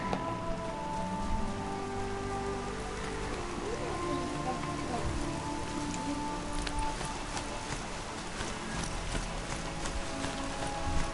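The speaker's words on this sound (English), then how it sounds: "That is some heavy rain." Heavy rain in an open-world video game, a steady dense patter that fills the scene, with faint hoofbeat-like clopping and scattered drips layered underneath and no talking.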